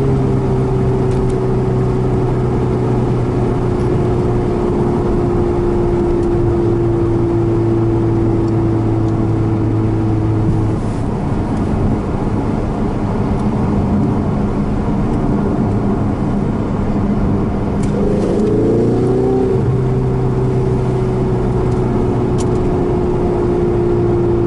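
A Ferrari engine drones steadily on a racing circuit, holding a sustained tone that dips, then climbs again as it accelerates, loud and continuous throughout.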